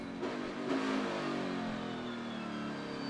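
A NASCAR Cup car at Sonoma Raceway holds steady on throttle, its engine a loud, continuous, sustained roar with a slight swell early on as it pulls through a turn.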